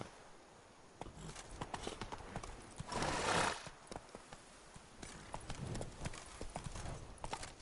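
A horse in a PS4 video game trotting with rhythmic clip-clop hoofbeats and a short snorting whinny midway, fairly faint and steady throughout.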